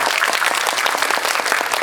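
Dense, steady applause from an audience at a film talk event, a Korean movie Q&A screening, filling the whole stretch with continuous close clapping and no break.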